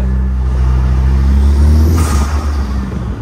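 A three-wheeled car's engine running with decompression, giving a loud, steady low rumble that rises into a revving surge partway through and then settles, heard up close with no talking.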